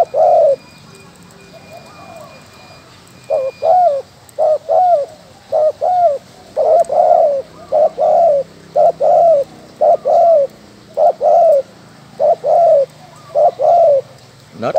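A dove coos in repeated low, rhythmic phrases, loud and close, with short pauses between each soft hooting call.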